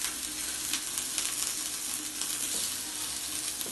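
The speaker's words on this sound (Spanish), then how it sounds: "voy a proceder a echar la papa en el sartén ya con el fuego bajo, a que cojan un poquitito de color" Potato pieces frying in a pan over low heat, a steady, close crackling sizzle with small pops throughout and no talking.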